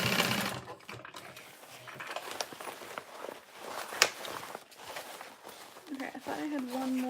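Sewing machine stitching fold-over bags, running in short bursts with pauses, quiet and close, mixed with handling noises and some talking.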